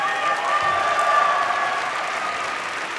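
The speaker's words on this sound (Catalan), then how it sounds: "us demano un fort aplaudiment per aquests 114 graduats i graduades en Ciències Polítiques i de l'Administració" Steady applause from a ceremony audience honouring 114 graduates in Political Science and Public Administration at a 2022 university graduation, a dense continuous clapping that holds evenly throughout.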